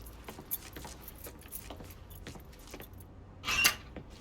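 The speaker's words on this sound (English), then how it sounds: "Hey, man, grab those keys." Keys are picked up in the video game Mafia III: a few faint small clinks early on, then a bright, brief metallic jangle near the end over a quiet ambient background.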